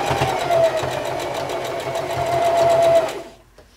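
A sewing machine stitching 6-inch quilt squares into rows for a baby quilt, running at a steady fast close whir and rattle for about three seconds before stopping.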